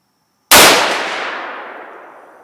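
Single loud close rifle shot from a lightweight semi-automatic 6.5 Creedmoor rifle with 120-grain ammunition, fired from a lead sled while zeroing the scope, with a sharp blast followed by a long fading echo.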